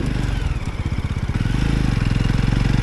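A Jawa motorcycle engine thumps steadily while riding on a mountain road, a close, loud, rapid pulsing beat that briefly slows then quickens again as the throttle changes.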